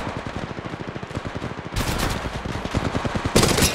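Rapid automatic gunfire in the mobile battle royale Apex Legends Mobile, a fast even stream of shots that swells into two louder, sharper bursts near the end, with no voices.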